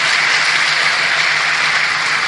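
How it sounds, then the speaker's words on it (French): An audience at a requiem mass claps loudly and steadily, a dense, sustained wash of applause with no pauses and no voices. "Je vous prie d'applaudir fort pour cet enfant qui pleure."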